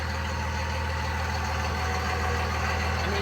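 A stock-exhaust 1999 Dodge Ram 2500 with a Cummins diesel and a 5-speed manual idles steadily and continuously at moderate loudness, with its low, even engine rumble running alone and no speech.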